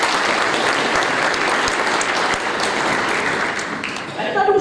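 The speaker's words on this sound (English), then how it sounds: "Alors, un grand applaudissement pour M." A graduation ceremony audience applauds the minister with dense, steady clapping that fills the whole stretch at a loud level, easing slightly near the end.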